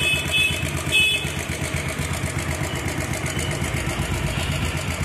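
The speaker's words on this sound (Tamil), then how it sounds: "இப்போ பார்த்தீங்கன்னா சவுண்டு டக்கு அடிக்கிறதுங்களா?" A motorcycle with a head noise problem idles close by, its steady engine putter carrying a fast, regular ticking from the cylinder head.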